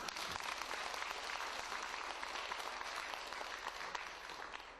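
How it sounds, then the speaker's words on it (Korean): Audience applause at a lecture hall talk, sustained clapping from a large crowd, steady and full, fading slightly toward the end. "일단 이순신 장군 위해서 박수 좀 쳐줘"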